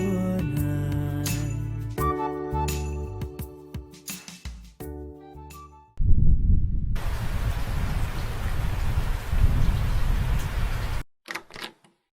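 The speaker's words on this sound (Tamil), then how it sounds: "செம்ம மழைல." Heavy rain pouring in a steady loud hiss for several seconds after music fades out, then cutting off abruptly.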